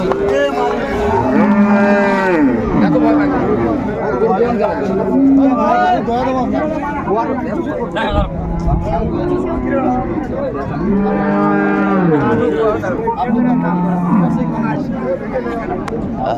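Cows and calves of improved dairy breeds at a busy village cattle market, mooing loudly and repeatedly in long drawn calls close by, with crowd noise and voices around them.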